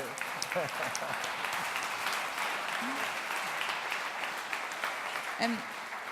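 Steady audience applause fills a conference hall at a summit panel on Olympic legacy, continuous and moderately loud, with faint voices and a brief remark over it.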